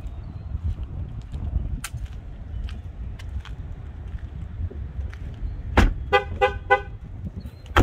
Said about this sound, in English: Keys are in it, that's why it dinged.